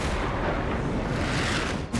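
A blast from the film Meg 2, heard as a dense, sustained roar of rumbling noise that stays loud and steady throughout.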